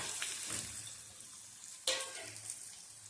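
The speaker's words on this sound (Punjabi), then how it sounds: "ਇਹਨੂੰ ਆਪਾਂ ਚੰਗੀ ਤਰ੍ਹਾਂ ਫਰਾਈ ਕਰਾਂਗੇ ਤੇਲ ਵਿੱਚ ਥੋੜੀ ਜਿਹੀ ਸੌਫਟ ਹੋਣ ਤੱਕ ਫਰਾਈ ਕਰਾਂਗੇ" Raw turmeric frying in oil in a pan, with a quiet, steady sizzle, a couple of brief stirring scrapes, and one sharper burst of spitting partway through.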